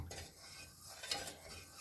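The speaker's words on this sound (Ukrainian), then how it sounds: "Перемішую, хай воно все вариться" A spoon stirs potato soup in a pot, making soft scraping and clinking against the sides with a small bright tap near the middle, quiet and close with no talking.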